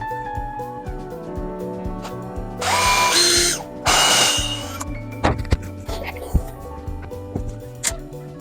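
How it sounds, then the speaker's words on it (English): A power drill driving screws to join the pieces of a wooden birdhouse: two loud, close, whirring bursts of a few seconds each, framed by clacks and taps of handling while a voice talks. "Let's screw that together."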